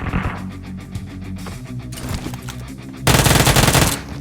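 Gunfire in PUBG Mobile: scattered shots and rattling fire build up, then a loud, dense automatic burst erupts near the end and runs for about a second.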